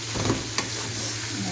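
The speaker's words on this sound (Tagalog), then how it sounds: "Brown chicken." Close, steady sizzle of 1.5 kilos of minced chicken browning in a hot pan, with a few light stirring scrapes over the frying hiss.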